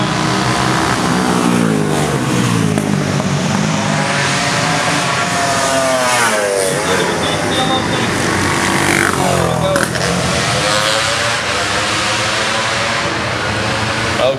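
A Motor Morini V-twin motorcycle engine runs loudly and steadily at a classic race meeting, revving up and down in sweeping pitch changes for the whole stretch, close by.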